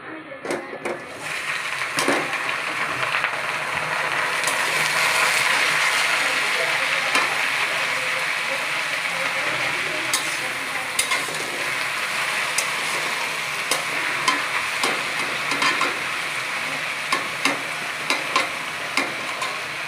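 Leafy greens hit hot oil with garlic fried to reddish brown and are stirred in the pan, giving a steady broad sizzle with scattered scraping clicks of the spatula throughout.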